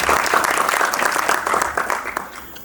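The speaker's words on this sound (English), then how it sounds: "Give him a big round of applause." An audience at a spelling bee gives a contestant a round of applause, with distinct, fairly close hand claps forming a brisk patter that gradually thins and fades out.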